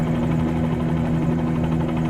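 Steady, loud helicopter engine and rotor drone from Microsoft Flight Simulator 2020, a continuous even hum with a strong low tone and no talk over it.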